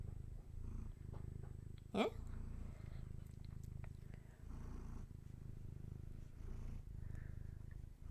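A pet cat purrs close up in a steady, low, rhythmic rumble that runs throughout, briefly interrupted by a short spoken word from a person nearby.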